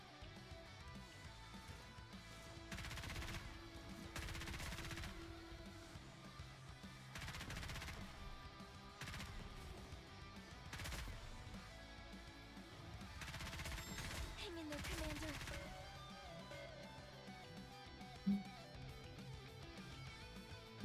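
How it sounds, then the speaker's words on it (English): Rapid gunfire in the mobile shooter Goddess of Victory: Nikke, repeated bursts of automatic shots a couple of seconds long over a game music bed, with one sharper impact near the end. "I need to start shooting a lot of ammo"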